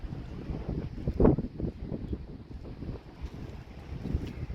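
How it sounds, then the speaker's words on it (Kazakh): Strong wind and stormy weather at the Caspian seaside in Aktau, a steady broadband wind rumble buffeting the microphone, with gusts surging near the start and end and a rougher, water-like wash throughout. "Енді бүгін күн қатты жел, дауыл"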